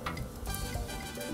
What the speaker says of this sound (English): You can see the sizzling coming up through the white sizzly.